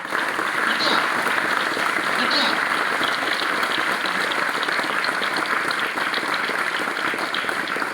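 Students at a school program applaud together, a loud, steady wash of clapping that carries on for the whole stretch.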